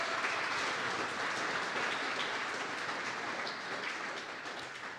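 A studio audience applauds a Packers defensive lineman on a sports talk show, a dense, even roar of clapping that holds steady, then fades slightly toward the end, with no voices over it.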